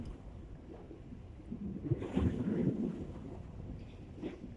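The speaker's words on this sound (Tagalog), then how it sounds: "Mahangin." Low, blustery wind rumbling against the microphone on a choppy seashore while fishing, swelling in the middle and easing again, with a hint of distant surf and no voices.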